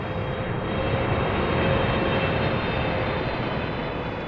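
A passenger airplane making an emergency landing gives a continuous, loud engine roar with a steady broadband rumble and faint tonal hum, constant throughout with no speech.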